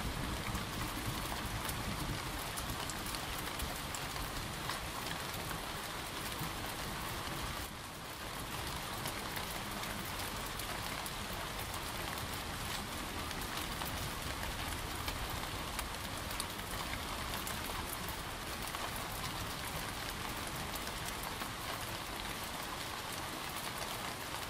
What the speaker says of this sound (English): Overhead, you can hear the gentle pitter-patter of raindrops.